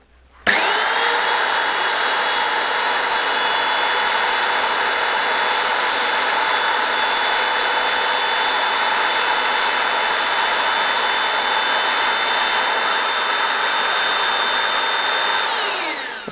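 A Festool BS 75 belt sander runs steadily and loudly for about fifteen seconds, a dense motor roar with a high belt whine, starting and stopping abruptly with no talking.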